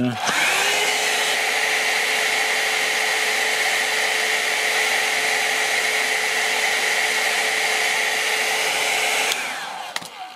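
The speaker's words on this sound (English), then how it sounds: "I put a second layer over it and heat shrink it again." A heat gun shrinks heat-shrink tubing over a repaired USB cable, a loud, steady, close blowing roar with a constant whine that holds for about nine seconds before cutting off sharply.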